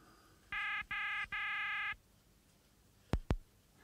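A telephone rings after a call is placed in a German science-fiction radio play: three electronic ring bursts, the last one longer, followed by two sharp clicks, clear and alone over a quiet background.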